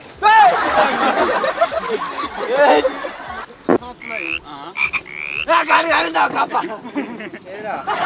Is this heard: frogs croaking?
yes